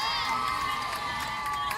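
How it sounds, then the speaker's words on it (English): Players in the dugout at an 18U girls' softball game cheering, a sustained chorus of high shouts and chanting voices heard from a short distance. "Dugout's excited. They're cheering it."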